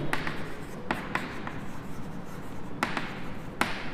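Handwriting during a lesson on relations and functions: a few faint, scratchy pen strokes and light taps come in short bursts over a quiet room tone, with no talking.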